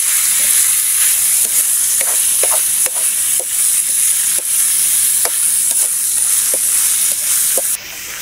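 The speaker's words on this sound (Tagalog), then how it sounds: "Halo lang po para siya ay mamik." Lanit-lanit beef cooking in a pan, stirred with a utensil that knocks and scrapes in scattered sharp clicks over a continuous bright sizzle.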